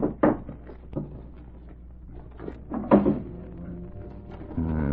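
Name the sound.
desk drawer being opened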